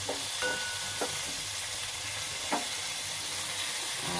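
Malabar spinach and small fish fry and get stirred in a pan over a low flame, giving a steady sizzle broken by a few distinct scrapes of the spoon against the pan, with no voices.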